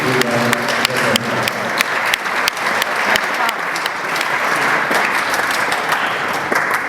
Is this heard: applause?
yes